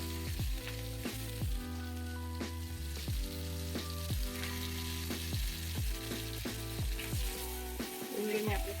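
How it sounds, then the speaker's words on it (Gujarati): Finely chopped onion sautés on a low flame in a pan, a steady close sizzle under a sustained tonal hum and musical background, with repeated soft stirring strokes throughout. "ધીમા તાપે જ આપણે ડુંગળીને આપણે સાંતળવાનું છે"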